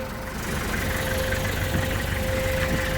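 A left-hand-drive Land Rover Defender 110 with a 2.5 diesel engine idles steadily and close up, a constant low rumble with a faint whine on top and no talk.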